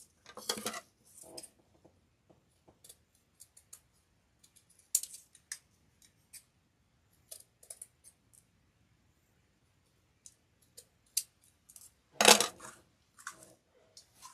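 Scissors snip through a 2-inch ribbon along a drawn line, producing sparse, close, crisp cutting clicks and small handling taps, with a louder burst of snipping and rustle near the end, no talking.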